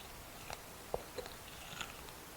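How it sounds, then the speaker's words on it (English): Someone bites into Mexican street corn on the cob, making a few soft, faint crunches close by. Nobody talks. "I'm ready to take a bite"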